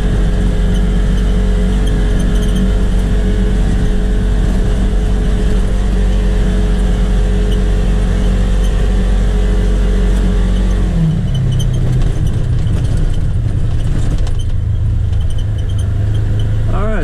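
A Polaris Ranger XP1000 fitted with a Hunterworks belt holds a loud sustained rev near 5,600 RPM for a long stretch, then the engine note drops and changes partway through, staying loud to the end.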